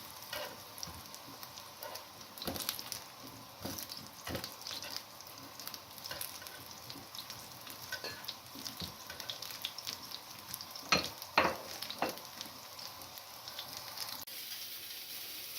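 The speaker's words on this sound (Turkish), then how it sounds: "kızartmaya devam edeceğim" Chicken meatballs sizzle and crackle steadily frying in a hot pan, with occasional louder pops and light scraping of utensils, close by and without voices.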